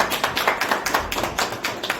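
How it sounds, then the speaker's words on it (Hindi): A crowd of people claps together in dense, steady applause that stays loud and close from start to finish, with no talking over it. "अरे ताली बजाइए लोग।"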